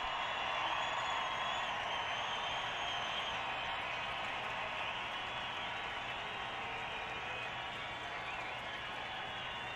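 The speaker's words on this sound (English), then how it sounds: "And David Bruton gets a hand from the crowd." A large stadium crowd at a 2014 Raiders–Broncos NFL football game gives a hand, heard as a continuous, fairly distant wash of applause and crowd noise.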